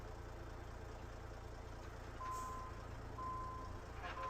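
A truck in American Truck Simulator, an International 9900i hauling B-double trailers, reverses with a steady engine hum under a few repeated reversing beeps, with no talking.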